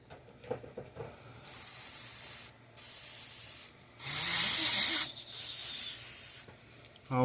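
An airbrush sprays pearl lime paint in a bluegill paint pattern, giving four sustained bursts of airy hiss separated by short pauses, close and fairly loud, with no voices.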